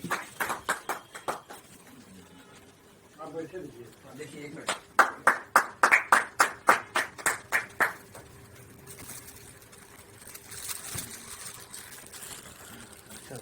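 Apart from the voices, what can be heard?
applause welcoming the chairman at a poetry gathering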